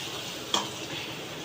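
Curry leaves drop into hot tempering oil and sizzle, with a soft steady frying hiss, a quick spatter and the scrape of a stir partway through.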